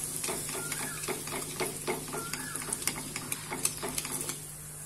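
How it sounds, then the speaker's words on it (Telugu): Kashmiri red chilli being stirred into a spoonful of hot oil in a pan on a tawa, giving a steady soft sizzle with repeated scraping and clinking strokes close by, no talking. "దీంట్లో Kashmir red chilli 1 spoon add చేసుకొని బాగా మిక్స్ చేసుకోవాలి"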